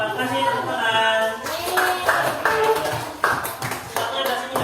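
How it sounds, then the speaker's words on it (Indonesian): A class claps for group 5 in a primary-school lesson: a burst of many hands clapping at once, steady and fairly loud throughout, with children's and adults' voices mixed in underneath. "kasih tepuk tangan"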